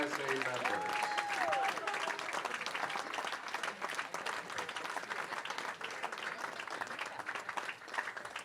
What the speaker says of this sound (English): one big round of applause for our 2023 Junior Team USA members